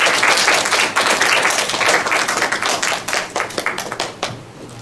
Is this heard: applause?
yes